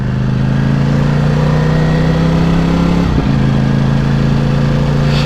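A 1000cc motorcycle engine runs loud and close with a steady, deep humming drone, briefly dipping in pitch midway before settling back to an even rumble.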